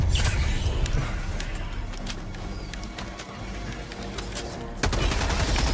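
Gunfire in the video game Helldivers 2 crackles as a steady, moderately loud stream of rapid shots, with a sharp burst near the end and no clear talk.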